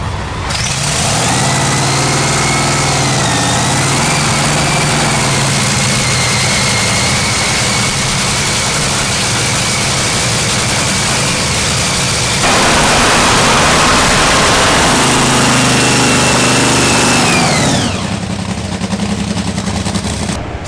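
Top fuel drag car engine on its first break-in run, a very loud, steady, close roar with rising and falling whine tones, a surge in intensity partway through, then dropping back near the end.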